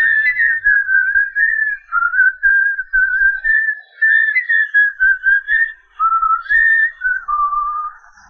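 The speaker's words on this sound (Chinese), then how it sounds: "口哨声的音色和音速呢，都跟怀表原声大差不差" A person whistles a steady, sustained tune with gentle pitch glides and short breaks, loud and close, meant to lure a zombie in a comedy horror film; no talking.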